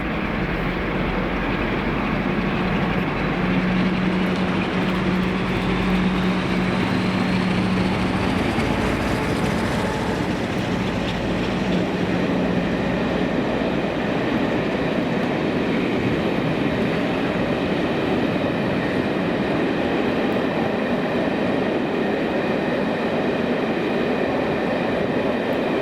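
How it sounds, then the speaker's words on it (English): Train hauled by a pair of West Coast class 47 diesel locomotives at Newington, Edinburgh, a heavy sustained diesel engine rumble and rolling wheel noise passing close by, with a brief horn-like tone early on. "Here is one of those trains, 1Z29, the 1448 Edinburgh round to Gorgie, with West Coast 47s being the sole choice of traction"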